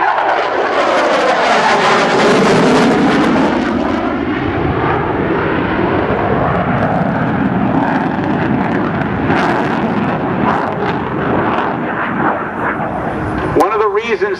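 An F/A-18C Hornet jet at an air show demonstration in Peoria, Illinois roars loudly and continuously overhead, its engine noise swelling and shifting as it passes, with a voice talking over it.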